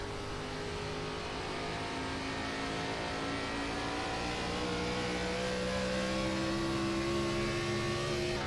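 A NASCAR Gen 4 stock car on an iRacing oval holds a steady, droning engine note with slowly rising pitch, continuous and moderately quiet, with no talking.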